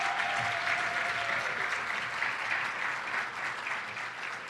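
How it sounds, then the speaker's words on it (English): Ceremony audience applause rolls steadily through a hall, a thick, sustained clapping from a large crowd that eases slightly toward the end. "Give her a big round of applause."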